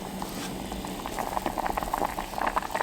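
Shiitake mushroom and rice soup boils steadily in a pot, a dense bubbling patter that grows busier and louder over a few seconds, close and alone without talk.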